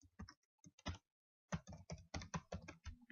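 Keys clack on a computer keyboard in quick, soft bursts of typing, with a short pause before a steadier run of keystrokes resumes.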